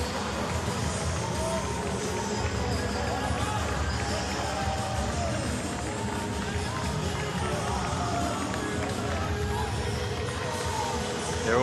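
A stadium crowd at a County Championship Finals rugby match applauds a victorious rugby squad with loud, sustained clapping and cheering. A steady roar and a murmur of voices run unbroken throughout.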